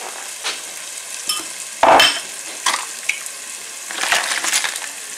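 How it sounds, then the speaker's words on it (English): Cooked crab shells from the legs and claws tumble into a hot pan for shellfish bisque, giving brief crunching clatters and a burst of sizzling, then scattered scraping stirs close by with no talk. "Going in, all the meat's been taken out of the legs, out of the claws, and they're going in."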